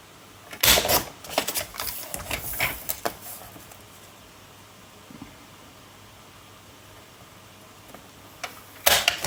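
Paper card is sliced for a scrapbook album page, with several sharp crisp cutting strokes and rustles at the start, a quiet pause, then one more snap near the end, close and clear.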